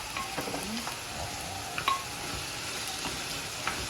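Steady sizzling of onions frying in a hot pan with cooked meat for eggplant kebab, a dense crackle with occasional louder pops, no voices.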